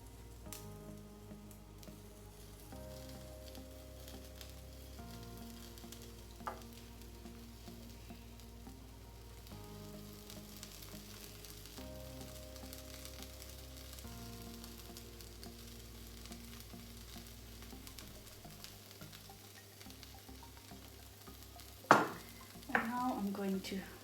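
Bread fries in a pan for chilli cheese toast, giving a steady, low sizzle that runs under background music for the whole stretch, with a brief clatter of utensils near the end.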